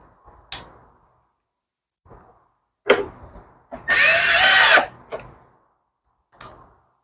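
A power drill drives screws into a Troy-Bilt tiller during a cable repair: a loud, steady whirring burst of about a second, with scattered clicks and clunks of handling before and after.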